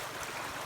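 River water flows in a continuous, moderately close rushing wash with no voices.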